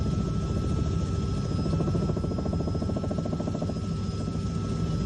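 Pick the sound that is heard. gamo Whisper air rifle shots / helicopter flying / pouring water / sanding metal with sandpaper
helicopter flying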